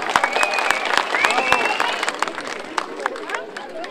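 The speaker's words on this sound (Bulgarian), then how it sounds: "Моля, аплодисменти за тях!" An audience claps and cheers for a hypercar's production team at a car launch event, a lively patter of hands mixed with crowd chatter and scattered shouts, fairly close.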